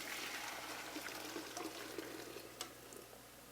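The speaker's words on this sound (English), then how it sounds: "you're going to want to drain it and rinse it with some cold water" Cold water runs and splashes as boiled edamame is drained and rinsed, a steady close trickling pour with a few brief splashy bursts.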